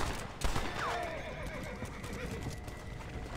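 A horse neighs once in a cowboy video game, a clear descending whinny near the start, followed by hoof clip-clops and game ambience.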